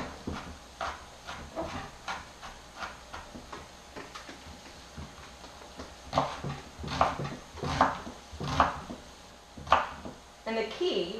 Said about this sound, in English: I like to mince my onions